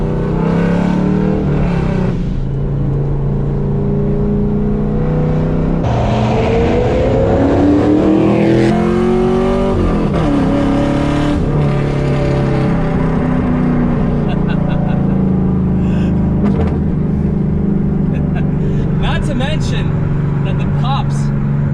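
A loud, throaty straight-piped V8 engine revs repeatedly, rising and falling in pitch with a harsh rumble, close up, with some talk mixed in.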